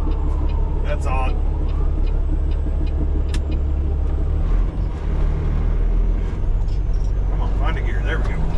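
A semi truck's engine rumbles steadily up close from inside the cab as the driver works through the gears, with a brief dip as a shift goes through and the drone carrying on beneath occasional talk.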